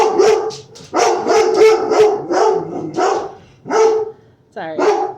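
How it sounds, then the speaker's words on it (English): A dog barks outside in a string of loud, close barks and yips with short gaps between them, ending in a whimpering bark. "Lucy's outside barking, so F is barking."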